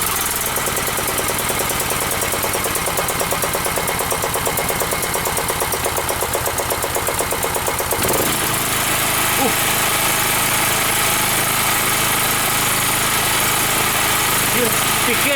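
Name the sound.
Forte FG3500 petrol generator engine running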